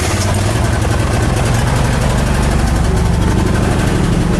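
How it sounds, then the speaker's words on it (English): A generator engine runs just after a cold start on a winter morning, giving a loud, close, steady low chugging with a slightly uneven sputtering rhythm throughout. "it's just going to sputter like that for a few minutes because it's got some sort of cold start technology"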